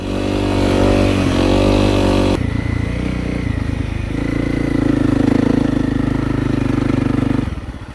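A Honda CRF250L Rally motorcycle being ridden off-road through marshy trail terrain, its single-cylinder engine droning loud and close with shifting pitch as the rider changes throttle, steady throughout before easing off at the end.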